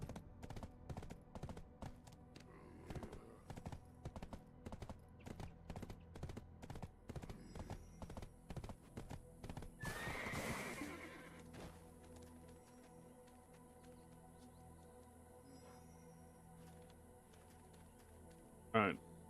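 Horse hooves clip-clopping at a rhythmic gallop in the online role-playing game Black Desert Online, steady and clear before easing off, with a brief rush of noise midway, a short whinny-like sound near the end and talk in the background.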